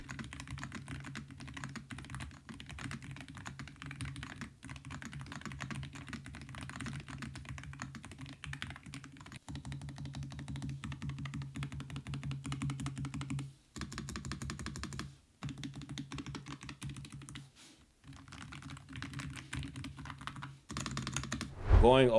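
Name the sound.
typing on low-profile Hall effect keyboard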